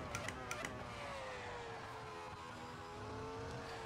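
Open wheel race car engine in a racing video game, a steady high droning whine that shifts pitch gently as it revs, with a few faint clicks at the start.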